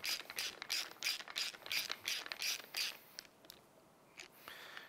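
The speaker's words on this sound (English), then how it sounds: "Now make sure you've got it aligned before you break out the ratchet, because we don't want to cross thread them in there." Rapid clicking of a ratchet tightening M6 bolts on a Can-Am Defender side mirror, a quick burst of close ratchet strokes that slows to a few sparse clicks, no talk.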